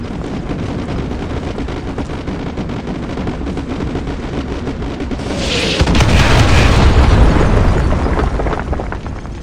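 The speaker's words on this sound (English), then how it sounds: "Artillery inbound. Coordinates confirmed. Firing." Artillery explosions boom in the Call of Duty: Modern Warfare 2 Remastered video game, a rumbling barrage over steady battle noise that swells into a heavy, sustained blast near the end.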